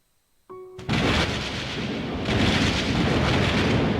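A thunderstorm in the video game Code: Realize: a short tonal chime gives way to a sudden heavy rumble of thunder and a steady roaring wash of rain that stays loud to the end.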